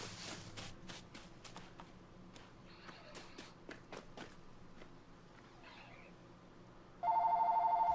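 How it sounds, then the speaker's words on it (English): A phone starts ringing with an incoming call near the end, a loud repeating electronic trill. Before it come quiet footsteps and soft scattered taps at low volume. "Phone again."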